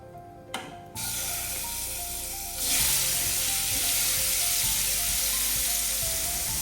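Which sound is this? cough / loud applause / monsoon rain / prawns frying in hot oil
prawns frying in hot oil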